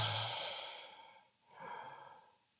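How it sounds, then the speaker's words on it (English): Slow, deep breathing during a neurodynamic breathwork session, a long airy exhale fading into a brief pause and then another soft breath, close and quiet with no talking. "Breathing fully and deeply, deeply and fully, fully and deeply."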